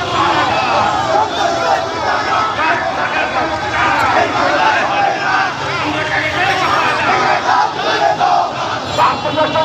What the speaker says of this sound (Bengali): বাংলাদেশ গণ অধিকার পরিষদের বিক্ষোভ মিছিল।